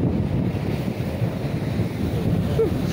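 Sea waves wash against the shore under steady wind, with a continuous rough roar of surf and gusts buffeting the microphone. No one speaks.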